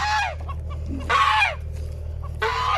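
Outdoor chickens give loud, drawn-out squawking clucks in three separate bursts, close by, over a steady low hum in the background.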